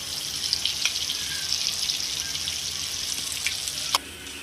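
Masala for stuffed bitter gourd roasting in oil in a pan, a close, steady hiss and sizzle with faint scraping stirs throughout and a sharp clink near the end.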